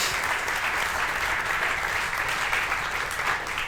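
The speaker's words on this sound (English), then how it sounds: "we're probably going to give a big round of applause to Jeremy first" A conference audience gives a speaker a full round of applause, dense and sustained clapping from many hands that stays even and loud throughout, with no voices standing out.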